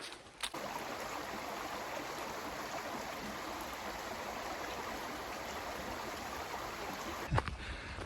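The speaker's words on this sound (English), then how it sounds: "Some beautiful streams." A forest stream on the Appalachian Trail flows steadily in early fall, a continuous close rushing and babbling of water with no talking, broken by a brief thump near the end.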